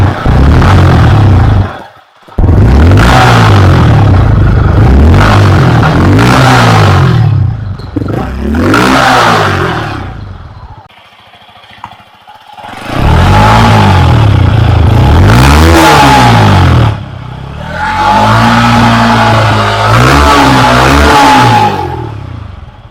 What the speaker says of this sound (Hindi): let's hear the exhaust sound of both the bike.